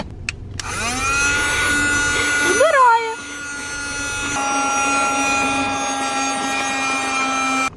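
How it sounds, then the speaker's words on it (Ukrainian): A small handheld vacuum cleaner sucks up crumbs inside a BMW car, switching on with a rising whine and a steady high motor hum that shifts pitch as it works, loud and close, with someone talking over it. "Я хочу випробувати оцей маленький пилососик, бо у нас тут, бачите, тут є крихти"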